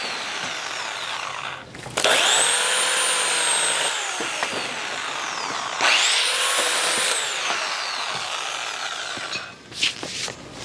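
Portland electric pole saw cutting through a dogwood tree limb, with a steady close motor whine and rasping chain bite rising and falling as the blade works through the wood, no talk.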